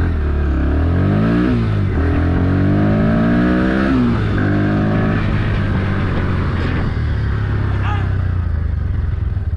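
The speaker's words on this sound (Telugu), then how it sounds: "సో మళ్ళీ ఇంకొకసారి పికప్ అయితే చూద్దాం." A 2024 Bajaj Pulsar NS160 motorcycle accelerating hard, its engine note climbing through rising revs with gear changes, loud and close and continuous throughout.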